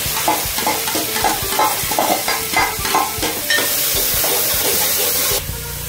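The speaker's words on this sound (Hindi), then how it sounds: "अब इसमें हम प्याज डाल देंगे।" Onions go into a hot pan and are stirred, so the loud, close frying sizzle comes with repeated scraping strokes of the spoon. The hiss then swells strongly for the last couple of seconds.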